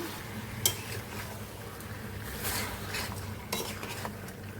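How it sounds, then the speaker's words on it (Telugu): Chicken and chili being stirred in a cooking pot, with soft scraping and clinking of a utensil against metal over a light sizzle, a few sharper knocks standing out. "ఇలా కారము ఇవన్నీ కలిసేలాగా తిప్పుకోవాలండి"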